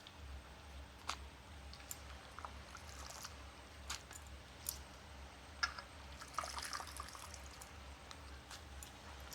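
Grated raw mango rinsed in water by hand, with quiet sloshing and scattered small splashes and drips over a low background hum.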